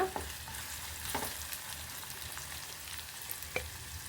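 Onion, mustard seeds, dried red chillies and curry leaves sizzle steadily in hot oil in a pan, stirred with a few soft scraping strokes, close and fairly quiet, with no voices.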